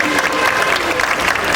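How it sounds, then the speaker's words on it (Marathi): An audience claps loudly and continuously at a stage teaser launch event for the Marathi film 'Mamachya Goavyala Jauya', giving a dense, close burst of applause with a faint crowd murmur beneath. "जरा टाळ्या दमदार झाल्या पाहिजेत सगळ्यांसाठी."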